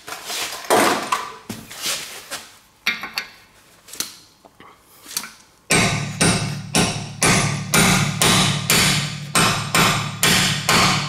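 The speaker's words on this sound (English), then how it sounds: "and then a little bit hammering" Sharp metallic hammer blows strike a stripped, worn-out bolt in a brake disc, irregular at first and then in a fast, steady, loud rhythm of close strikes.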